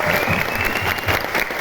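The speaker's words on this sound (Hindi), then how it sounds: "एक बार जोरदार ताली।" Loud, dense applause from an audience at a motivational talk fills the whole moment, steady and close with no pauses.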